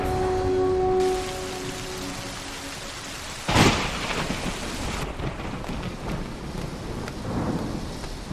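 Steady rain pours down in an animated Winx Club episode, and a sharp crack of thunder breaks in midway before a rolling rumble under the continuing downpour.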